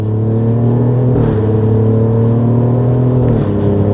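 A 2024 Alfa Romeo Stelvio Quadrifoglio engine rumbles loudly and steadily up close, its pitch dipping and swelling as the revs shift, with no voices over it.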